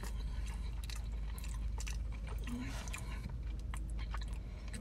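Fresh sausage from a barbecue food trailer being chewed close up, with moist, soft squelching bites and faint crunches repeating over steady background noise, and someone talking at points.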